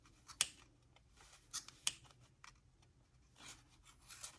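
Scissors snipping through crinkly paper to cut the bottom of a paper tassel, several short crisp cuts spaced apart, close and quiet with no speech.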